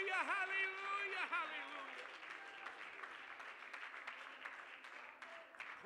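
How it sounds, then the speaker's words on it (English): A church congregation at a Sunday morning service claps their hands in praise, a busy, ongoing patter of many claps that follows a sung, drawn-out voice at the start and continues under faint voices. "I want you to clap your hands to him and give him praise."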